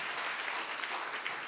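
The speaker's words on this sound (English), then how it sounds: "go ahead, you can clap for that, praise God" Steady crowd applause fills a church sanctuary as the congregation claps during a sermon, an even roar of many hands sustained without a break.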